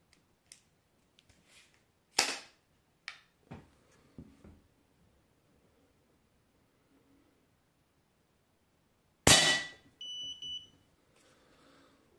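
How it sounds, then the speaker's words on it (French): A Zoraki HP 01-2 Ultra air pistol is pumped: scattered close mechanical clicks and clacks, then one loud forceful stroke followed by a brief tonal hiss and rattle in an otherwise quiet room. "Une pompe à nouveau."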